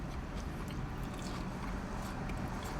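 A crunchy battered onion ring from a Red Rooster fast-food box is bitten into and chewed up close, a dense continuous crackling crunch with no talking.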